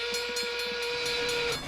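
A cartoon steam train pulling into a station sounds a sustained, steady steam whistle over a soft hiss, clear and fairly close, with faint chuffing underneath and no talk.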